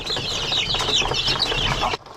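Seventeen-day-old chicks of improved local chickens (poulets du Faso), fed mostly on maggots on a small family farm, chirp in a dense, continuous chorus of high peeps that cuts off abruptly near the end.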